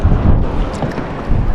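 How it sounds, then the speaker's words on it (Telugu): Kayaking at sea just off a beach: steady wind buffeting and lapping water roll on close up, with low rushing noise swelling and easing across the short stretch and no voices. "సో కయాకింగ్ చేస్తున్నాం బీచ్లో."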